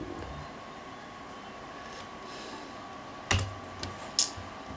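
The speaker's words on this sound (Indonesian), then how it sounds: "Kita coba ketik KPU." Typing a search into a browser on a computer keyboard, heard as a few separate clicky key taps near the end over a steady low room hum, no one talking.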